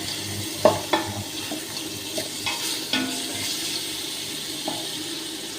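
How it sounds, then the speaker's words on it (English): Vegetable oil is poured over drained stew beef, a continuous liquid trickle and light sizzle close by, with a few soft knocks and clinks scattered through it. "Now I'm putting some oil to the meat."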